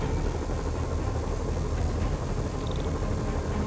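Loud, steady rotor drone of helicopters flying overhead in Marvel's Spider-Man Remastered, a dense continuous roar filling the whole stretch with no talk.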